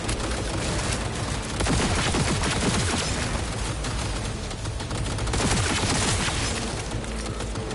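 Sustained heavy gunfire in the video game Cyberpunk 2077, a dense, continuous fusillade of rapid shots at steady loudness across the whole stretch, with no voices.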